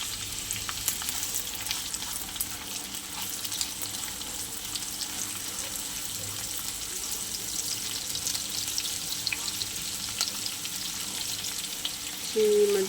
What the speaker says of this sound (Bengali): চলো এবার ভেজে নিই সুন্দর করে